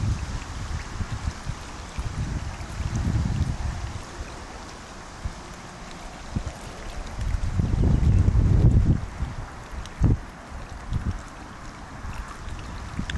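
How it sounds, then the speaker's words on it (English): Wind gusting across an open lake during a fishing session, buffeting the microphone with a steady low rumble that swells into stronger gusts, loudest around the middle and later, with no talking. "It's a bit blowy out there at the moment."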